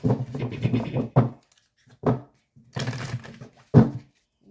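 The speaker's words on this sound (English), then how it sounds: "All right, so we'll get a few shuffles." A few bursts of oracle cards being shuffled and riffled close by, separated by short pauses, with no voices.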